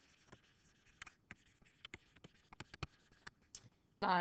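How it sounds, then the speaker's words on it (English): Notes handwritten with a pen on paper: irregular, quiet scratchy strokes and taps over a few seconds, close by, ending in a sudden loud burst of noise. "I'm just going to kind of write this stuff down"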